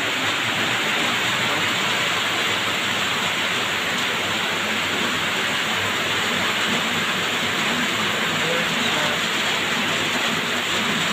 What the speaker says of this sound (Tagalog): Malakas po yung ulan dito sa amin ngayon.